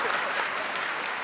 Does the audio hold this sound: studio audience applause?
yes